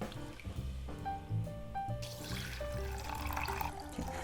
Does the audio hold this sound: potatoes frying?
no